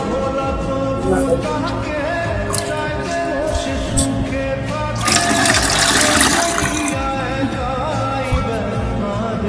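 Water pours over a sick person's head in a rushing, splashing stream that swells loudly midway, nearby and over a continuous background drone.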